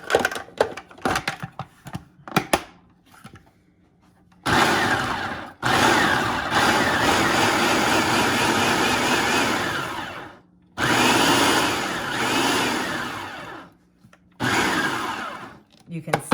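A food processor chops cranberries in bursts of whirring motor, with several separate pulses of differing length broken by short pauses, close and loud, plus a few clicks and knocks between runs.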